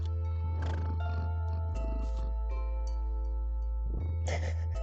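Rosie, a pet cat, purrs softly right next to the microphone in a quiet room, a low steady rumble that swells in a few gentle pulses over a constant background hum.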